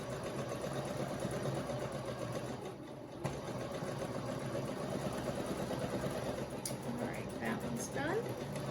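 A sewing machine stitching patchwork pieces for a scrappy granny squares quilt throw, a steady mechanical whir running continuously with a few small clicks and shifts near the end.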